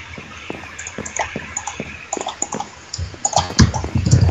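Water sounds from a lake in Minecraft with the Pixelmon mod, irregular splashing and dripping blips that grow busier and louder toward the end, with no talking.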